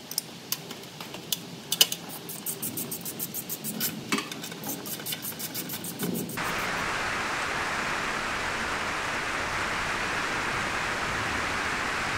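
Steady rain falls outside a workshop, starting as scattered drips and taps and then turning into a loud, even downpour that hisses continuously for several seconds.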